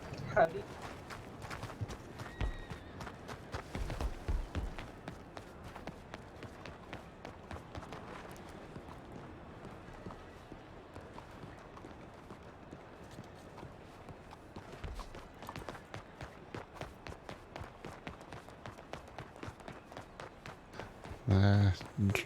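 Horse hooves clip-clop at a slow, steady walking pace, faint and regular throughout, with a sharper louder burst right at the end.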